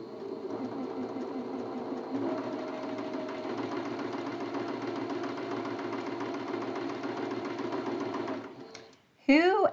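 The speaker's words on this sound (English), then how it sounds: "I'm just going to put those right through the sewing machine, chain piece them" Sewing machine chain piecing churn dash quilt block units, a close, continuous rapid stitching hum with a faint voice beneath, running steadily before stopping near the end, followed by a brief sharp rustle.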